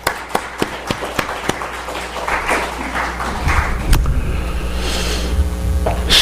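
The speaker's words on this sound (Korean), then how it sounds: "우리 박수 한번." A few sharp, separate claps open, then a church congregation joins in a building wave of applause that grows into dense, sustained clapping.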